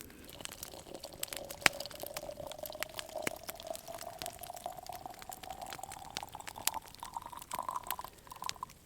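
Water dumped from a bottle at a snowy winter bushcraft camp, a steady trickling pour with a slowly rising tone over about nine seconds, fairly quiet and close.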